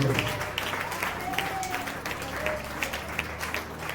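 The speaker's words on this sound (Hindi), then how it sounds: "ताली बजाओ, तारीफ करो" A church congregation claps during a worship service, a dense, fairly loud patter running throughout beneath a voice speaking.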